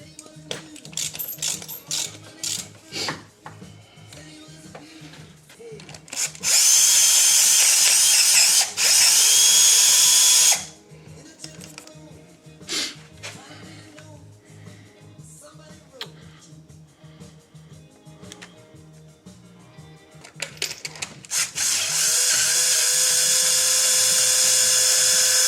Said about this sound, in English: Yeah, this is my little Bosch screw gun.